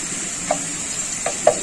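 Potatoes, beans and a dried red chili frying in a pan, a soft continuous sizzle with a few light taps of a stirring utensil, no talking.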